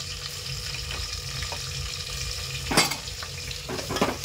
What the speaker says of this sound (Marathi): आता मी कढीपत्ता टाकणार आहे आणि नंतर मी चिरलेला कांदा, उभा चिरून कांदा घेतला आहे